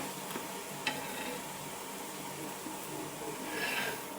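Faint, steady sizzle of thalipeeth roasting in oil in a pan, a soft continuous frying hiss with a couple of small crackles.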